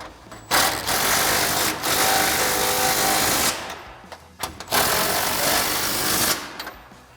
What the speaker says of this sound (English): Now we'll tighten down our 2 front mounting nuts, again with our 21 mil socket and impact.